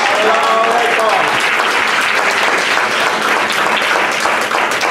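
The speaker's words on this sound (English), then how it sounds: "Let's give them a round of applause." A banquet crowd breaks into loud, continuous applause, steady dense clapping throughout with a few voices rising briefly near the start.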